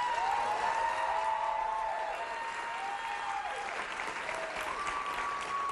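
A studio audience applauding steadily and loudly throughout, a dense continuous wash of clapping with a faint voice briefly over it.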